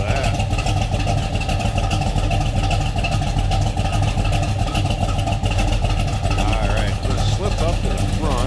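A 1969 Chevrolet Chevelle SS tribute's big block engine idles in a deep, steady rumble at close range, with a low throbbing loping quality and no other sounds.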